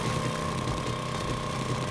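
A drill bores into an object in the video game 7 Days to Die, making a steady, loud, grinding mechanical roar that runs unbroken throughout with no talking.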